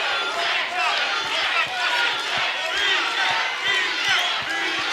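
Arena crowd at a boxing match in Las Vegas, a steady roar of many voices chanting and shouting throughout, with rhythmic swells and thumps under the din.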